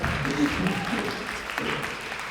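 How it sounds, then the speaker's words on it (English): An audience at a school jazz concert at the American School of Bombay in Mumbai claps in a brief burst of applause that fades as a voice speaks over it. "And some applause."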